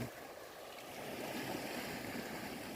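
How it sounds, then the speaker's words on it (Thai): Wind and sea waves wash against the embankment of a shrimp pond, a low, faint, continuous rushing that rises a little partway through, with no voices. "แต่ว่าช่วงนี้ก็ยังมีคลื่นลมอยู่นะครับ"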